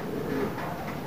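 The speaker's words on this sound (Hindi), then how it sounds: "शबीर भाई के कबूतर हैं" Pigeons kept by a hobbyist in Khanpur, Rahim Yar Khan, cooing softly and continuously at close range over a steady background murmur.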